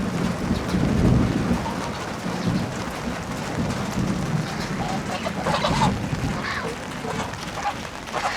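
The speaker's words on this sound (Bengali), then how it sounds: "এই যে দেখেন টিপটপ করে বৃষ্টি পড়তেছে, প্রায় বৃষ্টি পড়তেছে।" Rain pours down steadily in a constant wash on a village road, with distant rumbles of thunder underneath.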